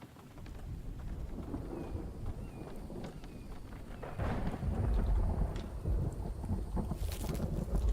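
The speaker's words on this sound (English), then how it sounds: "It's raining so the crops get watered." Rain and thunder in the video game The Infected: a constant wash of rain with low rumbling that grows heavier and louder halfway through, joined by faint bright ticks and a short hiss near the end.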